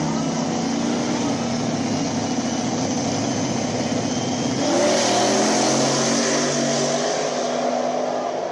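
Drag race cars roar down the track in a finals run, a continuous engine drone that swells louder midway as they accelerate, with no talk over it.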